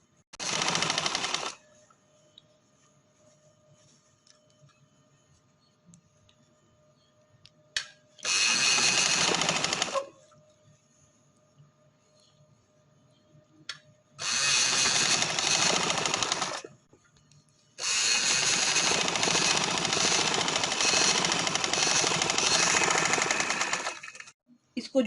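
An electric sewing machine stitching a V-neck on a garment runs in four loud bursts of rapid mechanical chatter, short at first and then a long final run, separated by quiet pauses.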